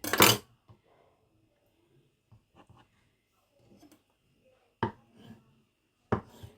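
A knife slices through a tomato on a board for a tomato salad, giving a loud cut at the start and then sparse, quiet contact taps. Two sharper knife strikes land near the end, with no talk.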